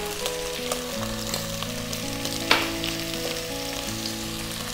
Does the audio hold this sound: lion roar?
no